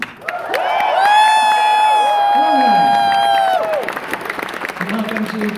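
A crowd at the Maplestory Fest fan event cheers and claps, with whoops and a long sustained shout rising above steady applause before it fades out.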